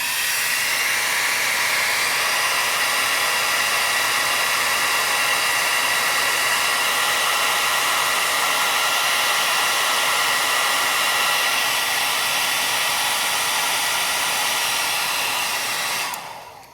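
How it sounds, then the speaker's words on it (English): A hair dryer runs continuously beside a digital thermometer circuit to heat its temperature sensor, a steady, loud whooshing whir that holds for the whole stretch before switching off at the end, with no talking. "And now what I'll do is I'll run a hair dryer just to increase the temperature,"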